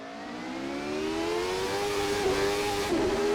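A 1991 Jordan Formula 1 car engine revs up, its high whining tone climbing steadily and loudly, up close with a rough buzzing edge.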